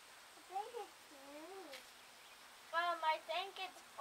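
Several faint cat meows, a few spaced apart early on, then a quicker run of mews near the end, distant and soft.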